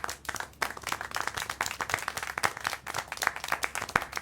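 Brisk, uneven clapping from a small group in the game Syberia - The World Before, quick sharp claps continuing steadily for a few seconds.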